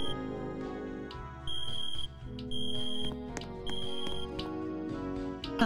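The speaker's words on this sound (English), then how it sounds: "But have you heard that alarm?" An alarm keeps going off with repeated electronic beeping that stops and starts in regular bursts over a steady tonal background, close and fairly loud, with no talking.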